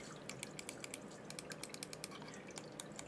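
Quick, light clicks from the buttons of an MSI Clutch GM31 lightweight gaming mouse, pressed close by in short irregular bursts against a quiet background.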